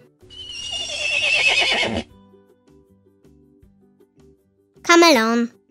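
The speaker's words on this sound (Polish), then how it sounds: "Koń." A horse's whinny sounds loud and close, then after a quiet pause a second short, shrill neigh rises and falls.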